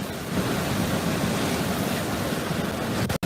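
Category 4 Hurricane Ian roars ashore on Florida's south coast, loud unbroken wind buffeting and rushing close to the microphone with a surf-like churn, cutting off abruptly at the end.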